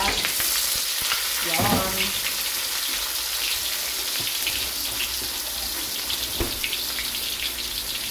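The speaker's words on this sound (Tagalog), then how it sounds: "Ito, igigisa muna natin ang ating sardinas. Lagyan natin ng bawang at saka sibuyas at saka kamatis." Sardines sautéing with garlic, onion and tomato in a pan, a steady wet sizzle with occasional spatula scrapes and clinks, close, and a brief spoken word near the start.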